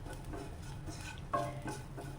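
Ground coriander and turmeric with chili powder roasting in a pan, a soft steady sizzle under light scraping and stirring, with one sharper clink of a utensil midway.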